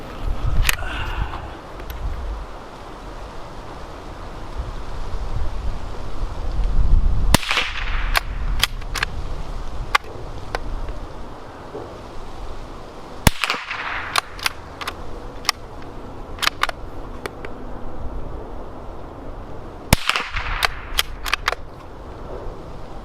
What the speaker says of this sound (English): So, let's keep shooting.